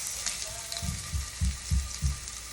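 Pieces frying in a pan for blackened salmon pasta: a soft continuous sizzle with several low thumps or pops recurring irregularly, quiet and close, no talking.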